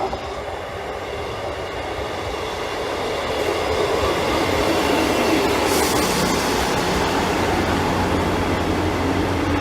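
A Northern passenger train rumbles past close by, its steady roar swelling and holding with faint rhythmic rail clatter; no voices.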